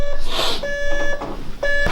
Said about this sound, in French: Éteins ce réveil!